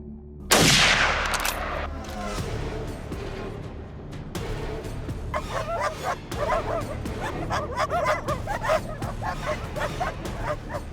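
Hunting dogs chasing wild boar in Florida bark, yip and whine excitedly in a rapid, overlapping chorus after a sharp loud burst at the start, fairly close and continuous.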